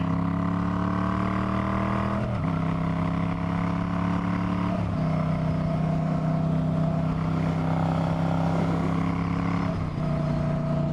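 A deep, steady V9 Bobber motorcycle engine idles loudly and close by, a rumbling low drone with a few brief dips in pitch.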